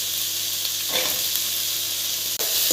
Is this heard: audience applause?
no